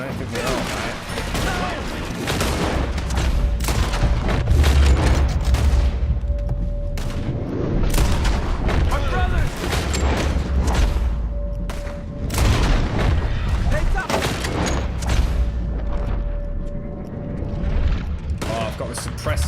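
Firebomb explosions and gunfire from a Red Dead Redemption 2 shootout boom and crackle in rapid bursts, heavy blasts and volleys rolling on continuously with shouting voices mixed in.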